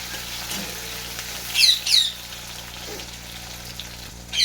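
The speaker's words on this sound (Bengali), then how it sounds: "টমেটো আর পেঁয়াজটাকে একইভাবে ভেজে নেব" Chopped tomato and onion frying together in a pan, a close steady sizzle with a couple of squeaky spatula strokes and stirring scrapes, no talk.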